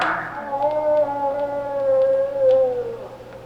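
A long, wavering howl from a Halloween sound effects vinyl record, ambiguous between a wolf and a cat, rising then sliding slowly downward over a few seconds, clear and upfront over faint surface hiss from the record.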